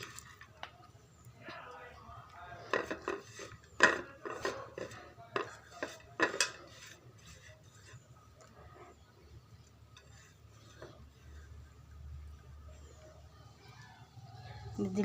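Mashed hilsa fish is mixed with fried chillies using a spoon in a bowl, giving a burst of clinking and scraping strokes that fades to quiet, with a voice talking alongside.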